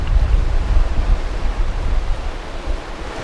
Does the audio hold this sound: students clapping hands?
no